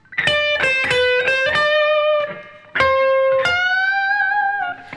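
An electric guitar with an effects unit plays a short melodic phrase from a song: several clear picked notes with sustained, slightly distorted tones, a brief pause, then more ringing notes, loud and alone.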